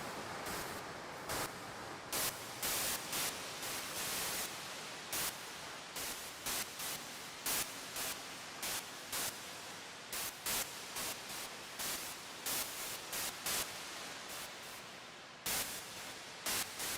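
SolderBox synth app on iOS puts out broadband hissing noise that steps in level and tone under a sample-and-hold LFO, giving a choppy, randomly pulsing static texture, steady and fairly loud with no talking.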